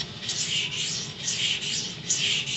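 A steel knife blade is ground freehand back and forth across a sharpening stone, a steady rhythmic rasping scrape repeated in even strokes, close and alone.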